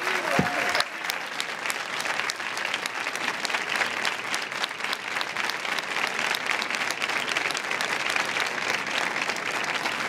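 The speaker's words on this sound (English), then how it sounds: "let's give them a big round of applause" A large audience at a conflict-prevention and peace event gives a panel a long, steady round of applause, dense and even throughout, after a brief tonal sound at the very start.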